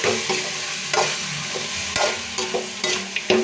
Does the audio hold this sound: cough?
no